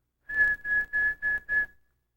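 A person whistles through puckered lips five short, even, clear notes of the same pitch in a steady rhythm, close and alone with silence after.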